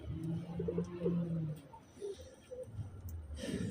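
Pigeons coo in low, rounded calls, one long rolling coo followed by shorter ones, close by over a dull background hum.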